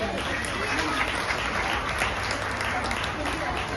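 A crowd claps steadily for children at a Jain school's Mahavir Jayanti event, in continuous applause that holds throughout, dense and fairly loud.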